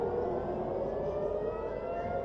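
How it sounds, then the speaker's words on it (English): An air raid siren in Israel wails steadily during an Iranian missile attack at night, a sustained rising tone carrying over a low rumble before cutting off at the end. "Sirens activated across multiple cities in Israel, including Tel Aviv."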